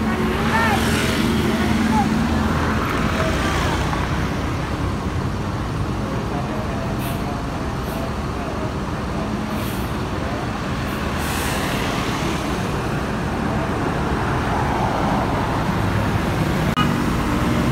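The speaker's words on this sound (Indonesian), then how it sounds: "dari arah Solok masuk satu unit lagi bus MPM, sepertinya MPM 40" An MPM intercity bus rolls in from the Solok direction at a roadside restaurant stop, its steady diesel engine rumble and traffic noise loud and continuous, with faint brief chirps.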